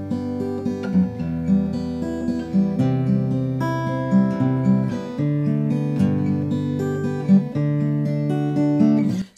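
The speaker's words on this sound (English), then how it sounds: "versus a softer, more muffled sound when you use your thumb." Acoustic guitar fingerpicked with the bare thumb, its bass notes softer and more muffled beneath a gentle arpeggiated pattern, played alone and close.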